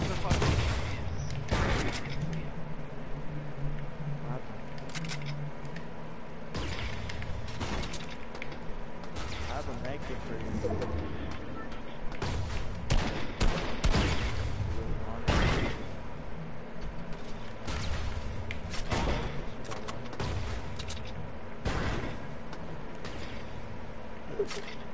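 Rapid video-game gunfire cuts down bots across a battle map, bursts of close, sharp shots repeating throughout with brief pauses, under a person talking.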